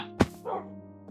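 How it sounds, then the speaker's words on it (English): A dog in the video game Minecraft gives one sharp, close bark followed by a softer trailing yip and whine over a faint steady tone, with no talking. "a pack of dogs are pretty much ready to go"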